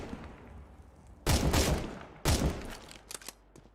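An automatic sniper rifle in CS:GO fires two loud, sharp bursts of rapid shots close by, then a few lighter clicks and rattles follow. There is no talk.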